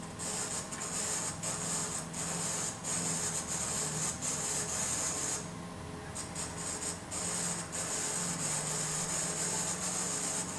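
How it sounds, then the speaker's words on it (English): A lathe tool taking a light cut with just its tip at an angle across a spinning workpiece, giving a steady scraping, rubbing whir with a brief lull partway through and no talk. "we just take a light cut across with just the tip at an angle so we can make a sure cut"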